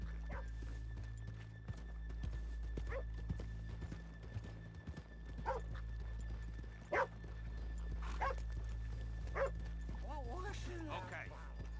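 Hoofbeats clip-clop at an uneven pace beneath a steady background hum, with occasional dog barks and a horse whinny near the end.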